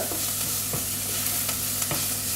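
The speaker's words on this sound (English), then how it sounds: "Just give that a stir in so the onion absorbs that flavour" Onion and spices, including ground coriander, sizzle steadily in a hot pan while a spoon stirs them, adding a few soft scrapes and taps over the constant close frying hiss.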